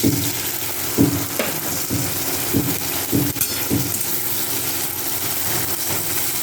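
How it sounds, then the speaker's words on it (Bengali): Prawns coated in salt and turmeric fry in a kadai wok with steady oil sizzle and hiss. A spatula stirs and scrapes with a series of regular clanks, heard close and with no talk. "চিংড়ি মাছগুলোকে একটু লাল লাল করে ভেজে নেব"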